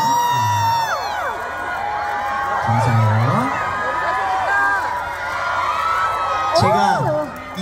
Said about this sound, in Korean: 여러분들께서 이렇게 박수와 함성을 보내주시고